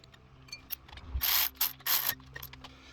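A ratchet wrench tightens a 10mm bolt on a Suzuki Forenza engine during a head gasket repair, giving three or four short bursts of rapid clicking close by in an otherwise quiet garage.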